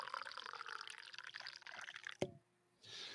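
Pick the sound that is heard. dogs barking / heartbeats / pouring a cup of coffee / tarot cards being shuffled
pouring a cup of coffee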